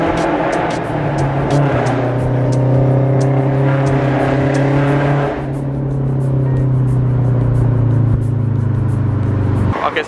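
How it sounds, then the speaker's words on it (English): A Scion FRS drives along a residential street, its engine a loud, steady drone that rises and falls as the car passes and keeps going at moderate distance. "that's the FRS all the way down here and I could hear it from literally down the whole entire street"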